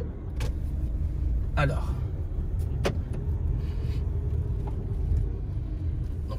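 A car drives slowly in first gear, its low engine rumble steady throughout, with a few clicks and someone speaking briefly over it.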